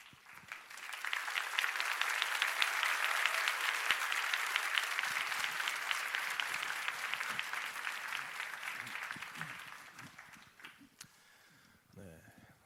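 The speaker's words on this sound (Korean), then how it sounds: "박수 부탁드립니다." Applause from a church congregation fills the room, sustained and fairly loud for several seconds before thinning out into scattered claps and quiet room noise.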